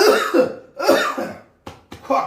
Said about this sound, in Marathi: खोकला तर काही थांबा ना